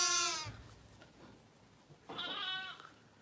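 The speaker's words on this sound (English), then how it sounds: "As the lambs run past back here." Lambs and sheep bleat inside a lambing shed, with two drawn-out, wavering calls at the start and end separated by quieter shuffling; close and clear with no talk.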